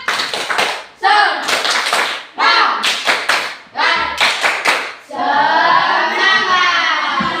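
Classroom children do a rhythmic spirit clap in an elementary school, loud patterned bursts of claps in groups, ending with a chanted shout by many young voices.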